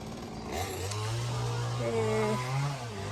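A chainsaw drones and revs at a moderate distance, its engine pitch rising and falling with no talking.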